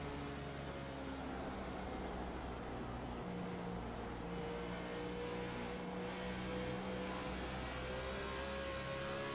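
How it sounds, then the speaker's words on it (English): A race car in a NASCAR racing video game at Dover gets loose and slides sideways on corner exit; the engine drones faintly and continuously as its pitch wavers and shifts, with no talk. "You can hear the car get loose and go sideways"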